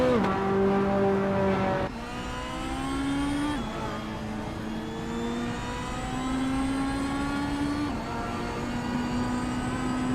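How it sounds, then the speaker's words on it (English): A 1984 Ford RS200 race car engine howls close by, its pitch climbing steadily through gears with sharp drops at each shift, loud and continuous with no talk. "Blackhawk Shazam is driving a 1984 Ford RS200"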